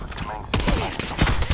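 Shotgun blasts in the Black Ops 4 multiplayer beta: two sharp, loud bursts of gunfire about a second apart over a busy game-sound bed, with a player talking over the action.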